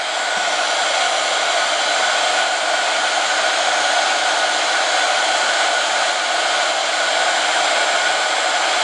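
A handheld heat tool blows steadily while heating embossing powder on a card, a loud, constant fan whir and airy hiss lasting throughout with no talking.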